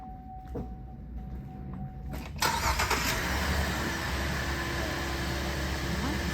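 A Buick Enclave that had been acting like it had a dead battery cranks on jump-box power and catches, its engine starting abruptly and settling into a steady idle nearby.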